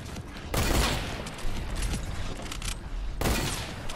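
Rapid bursts of gunfire in a Fortnite custom game mode, two loud volleys of shots with scattered single cracks between, close and dense, no voices over them.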